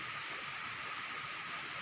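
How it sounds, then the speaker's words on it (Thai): The Mae Ramoeng waterfall in Thailand pours in a constant, broad rushing roar, steady and unbroken, with no voices over it. "วันนี้เราก็อยู่ที่น้ำตกแม่ละเมินนะครับ"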